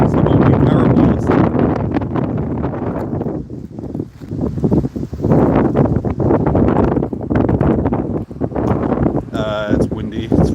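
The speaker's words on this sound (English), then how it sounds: "Sort of thing the wind blows through. Across the field, so it's always a lot stronger here." Strong wind roars and buffets the microphone across a flat open field, loud and gusting continuously, with a person talking over it.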